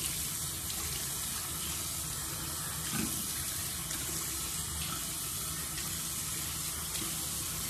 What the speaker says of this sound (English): So I just rinse that off.